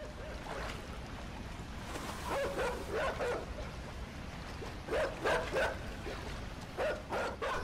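A dog barks in short repeated bursts during a chase in the video game Inside, heard over a steady bed of wind and water noise, fairly faint.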